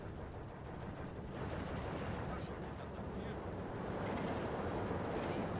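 Steady, rumbling machine gun fire and battle noise from the Steel Division 2 video game, a dense, continuous low crackle heard at a distance, with a voice talking quietly over it.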